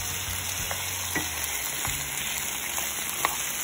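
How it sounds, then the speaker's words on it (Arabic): Potatoes and onions fry together in a cooking pot, a constant close sizzle with scattered soft pops and stirring scrapes, quiet and without speech. "وضعت البطاطا مع البصل وحقلبهم حتى يغلوا مع بعض وتتحمر البطاطا"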